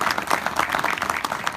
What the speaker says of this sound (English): I'd like to have a round warm applause